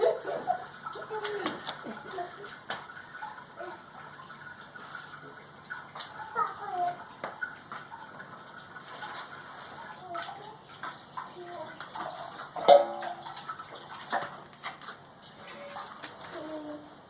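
Tap water runs into a container during a home brewing day, a faint steady hiss with light splashing, while people talk quietly over it.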